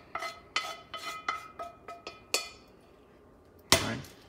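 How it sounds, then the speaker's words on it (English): A utensil knocks and clinks against a metal pot while bacon and pasta are mixed for spaghetti carbonara, about eight sharp ringing taps at an uneven rhythm, then a pause and one louder clang. "We're going to mix that up."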